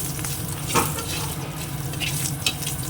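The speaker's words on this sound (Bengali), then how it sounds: "এই যে বড়িটা ভেজে নিচ্ছে" Bori lentil dumplings frying in a pan of hot oil, a loud close continuous sizzle with a few stirring scrapes, no voices.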